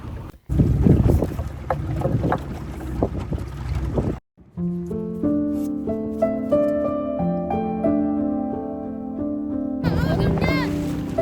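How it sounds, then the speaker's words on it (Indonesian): A speedboat heading from Sarmi, Papua toward Liki island roars with loud rushing wind, engine and wave noise for the first few seconds. Melodic music then takes over, and the rushing noise returns at the end. "Suara mesin speedboat mengalun cepat seiring dengan dentuman ombak yang memecah."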